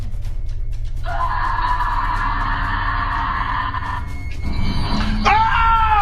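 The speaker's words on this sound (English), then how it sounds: "You can hear a horrifying guttural scream in the video." A long, strained human scream holds for about three seconds, then trails into a rough howl, sounding somewhat distant and muffled over a low background hum.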